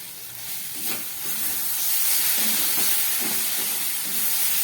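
Ground cumin and dried chilli powder fry over a low gas flame for a colocasia stolon dish, giving a steady broadband hiss and sizzle with a few soft scraping thuds, moderately close and without talk.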